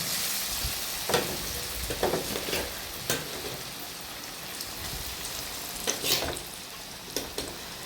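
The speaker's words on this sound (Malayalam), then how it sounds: "എണ്ണയിലിട്ട് ഒന്ന് പൊരിച്ചെടുക്കാം" Papaya pieces frying in hot oil, a steady close crackling sizzle with scattered sharper pops and spits throughout, no voices.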